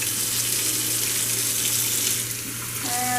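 Hot tap water runs steadily from a faucet into a sink, a continuous close hissing splash that stays even throughout, with no talking.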